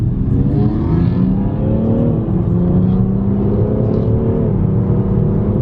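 A BMW M3 F80 speeds up hard after kick-down in a rolling race, its engine a loud, close, continuous drone. Pitch climbs steadily and drops briefly at each gear change.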